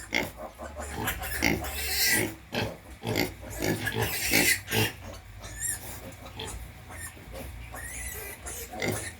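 A sow grunts while nursing her seven newborn piglets on a farm, with a close, rhythmic run of low oinks and snorts and some higher piglet squeaks mixed in, dense and continuous.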